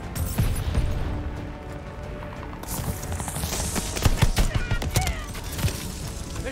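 Mortar shells and battle noise in Call of Duty Vanguard Domination: a dense, loud mix of rapid gunfire and booming impacts with mechanical clatter, continuous throughout.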